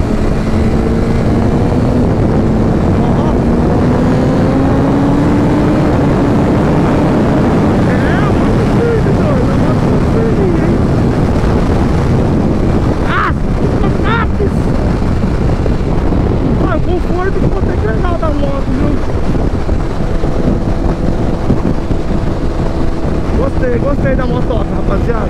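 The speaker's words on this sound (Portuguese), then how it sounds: "Barulho do escapamento" A 2021 BMW S1000RR drag-bike engine drones loudly and continuously through its aftermarket exhaust, with rising and falling exhaust tones, heavy wind buffeting, and voices talking over it.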